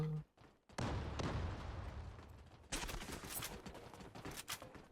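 Bursts of rapid gunfire from an online shooter game with a sniper in play: a dense volley up front, a brief gap, then a second loud, sustained rattle of shots that carries to the end.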